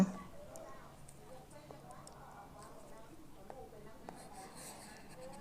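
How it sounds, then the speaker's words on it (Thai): A stylus writes on an iPad Air 4 fitted with a paper-feel screen film, giving faint, dry scratching strokes in short bursts against a quiet background. "เดี๋ยวเราจะลองใช้ปากกาเขียนดูว่า เขียนได้หรือเปล่า"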